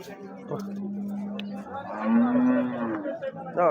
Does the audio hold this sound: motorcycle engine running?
no